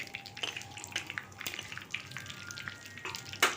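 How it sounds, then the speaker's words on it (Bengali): Vegetables and green chillies fry in oil for a dal made with raw mango, a quiet crackling sizzle with scattered pops and a sharper clatter near the end, close and without talk. "আর কাঁচা লঙ্কাগুলো দিয়ে দিলাম কাঁচা লঙ্কাগুলো একটু ভেজে নেব"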